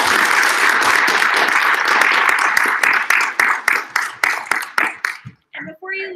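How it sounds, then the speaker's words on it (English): An audience at a live science talk applauds the speakers, a dense, loud crowd of clapping that holds steady and then thins into scattered individual claps before fading out. "we can give everyone a round of applause for a great."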